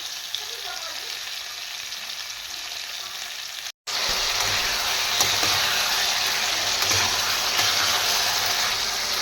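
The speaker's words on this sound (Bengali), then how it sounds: "ফ্যাসা মাছের তরকারি নাড়ছি" A pan of phasa fish curry sizzles steadily as it is stirred, a constant close frying hiss cut by one brief silent gap.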